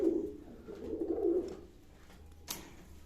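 Domestic pigeons kept for sale coo softly in a low, throaty warble, a few calls close by, followed by a brief sharp knock.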